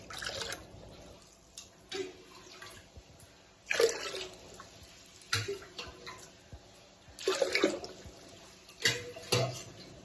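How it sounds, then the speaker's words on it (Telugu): Water poured from a bowl into a cooking pot of soaked sago, nine bowlfuls in all, arriving as a series of separate splashing pours with quiet gaps between them. "ఈ గిన్నెతో 9 నీళ్ళు పోసాను."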